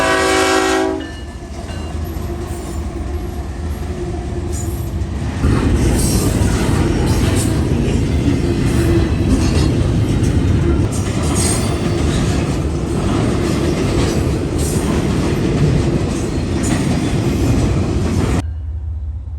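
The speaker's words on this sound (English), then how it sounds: "I-141 is daily intermodal out of North Baltimore, Ohio, bound for Jacksonville" CSX I-141, a daily intermodal freight out of North Baltimore, Ohio bound for Jacksonville, Florida, thunders past on the Toledo Sub near Dayton, with a horn blast, a loud sustained roar of wheels and clatter, and metallic squeals before cutting off.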